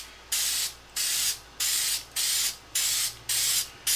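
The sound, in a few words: spray finish sprayed back and forth across wood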